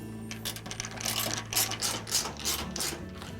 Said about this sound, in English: we'll reinstall the other 2 screws on the front of the bulkhead